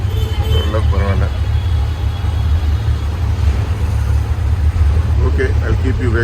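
Busy Mumbai street traffic with a steady low engine drone, most likely an auto rickshaw idling close by among other vehicles, with a brief voice near the start.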